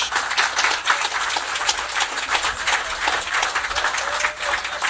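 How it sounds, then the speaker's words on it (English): Sustained audience applause at the groundbreaking ceremony for a Marriott hotel at Picard, Portsmouth, a dense steady wash of many hands clapping throughout with no pauses. "Let's give him another round of applause."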